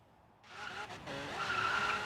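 Dodge Viper GTS ACR in Forza Horizon 3 roaring up through its revs with loud tire squeal and skidding, the engine note rising steadily and staying close and intense.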